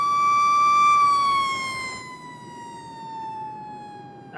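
Fire truck siren without a mechanical Q siren: a loud, steady electronic wail tone that drifts slowly downward in pitch over several seconds, with no voices.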